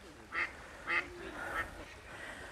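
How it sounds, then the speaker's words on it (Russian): A duck quacks by a river in an urban recreation area, three short loud quacks about half a second apart followed by a softer fourth, close by over faint outdoor ambience. "Утка возмущена, что мы сюда пришли все."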